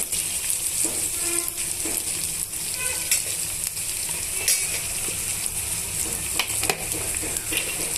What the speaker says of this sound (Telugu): కట్ చేసి పెట్టుకున్న అల్లం ముక్కల్ని యాడ్ చేసి ఇలా వేయించేసుకోవాలి